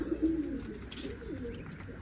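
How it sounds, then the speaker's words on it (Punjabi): Pigeons coo softly on a rooftop as grain is set out for them, a few low throaty coos close by with faint background rustle and no talk. "ਉੱਪਰ ਵਾਲੇ ਕਬੂਤਰਾਂ ਨੂੰ ਪਾ ਦਈਏ"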